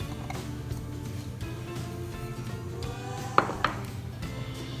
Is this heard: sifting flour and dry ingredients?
yes